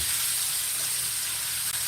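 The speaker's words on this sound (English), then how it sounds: "Like right now, it's a little too much of a sizzle." Food sizzles in a pan, a steady bright hiss close up with no talking.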